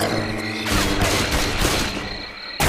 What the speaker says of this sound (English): They shoot me, man!